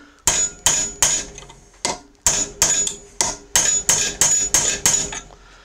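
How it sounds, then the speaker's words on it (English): A hammer strikes a chisel driven between stuck parts of a Craftsman riding mower, about a dozen sharp, ringing metallic blows in a steady rhythm, loud and close. "Try and get that chisel in between the pieces."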